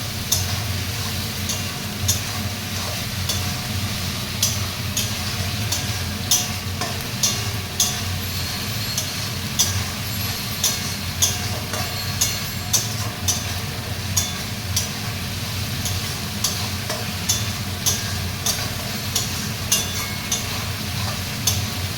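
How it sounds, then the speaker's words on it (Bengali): A spice mixture sizzles in oil in a wok with a continuous close hiss, punctuated by frequent sharp ticks and scrapes of stirring at a fairly regular pace. "সব মিক্সচারে দিয়ে কষিয়ে এবার আমি তেলের উপরে দিয়ে দিয়েছি কড়াইতে"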